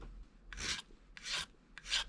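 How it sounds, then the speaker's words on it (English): A bastard file on a Leatherman multitool rasps across a surface in three steady, evenly spaced strokes, close up and clear with no talking. "And this is literally just the bastard file in my Leatherman."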